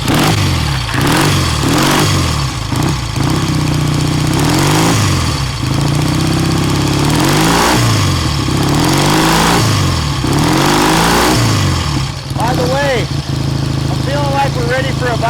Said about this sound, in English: I'm gonna fire up this old 67 Triumph T100C